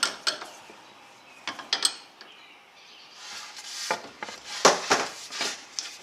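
Fasteners being tightened on model railroad benchwork, with a series of close, irregular metallic clicks, ratcheting and scraping in short bursts.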